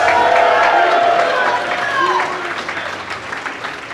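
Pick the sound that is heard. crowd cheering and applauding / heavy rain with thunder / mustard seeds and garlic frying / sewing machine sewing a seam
crowd cheering and applauding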